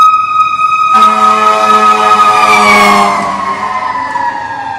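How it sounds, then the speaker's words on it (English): A fire engine siren wails loudly and steadily as the truck passes close by, its tone sliding slightly lower as it moves away, with no talk over it. "there's a fire engine coming, so hold on 1 second"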